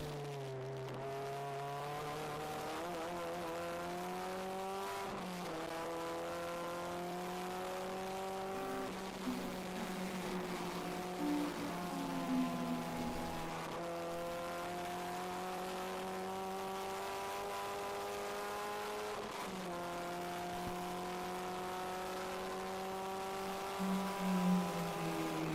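Race cars circle the track at the VIR Winter Classic, a ChampCar endurance race, their engines droning steadily with rising and falling pitch as cars pass, a continuous loud roar with shifts and surges throughout.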